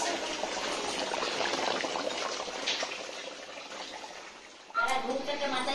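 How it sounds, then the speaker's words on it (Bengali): A pot of meat curry bubbles on the stove as the liquid reduces, giving a continuous close gurgling simmer with a louder burst of bubbling near the end. "মাংসটা রেডি হয়ে গেছে, আর একটু ফুটবে আর জলটা একটু মরবে।"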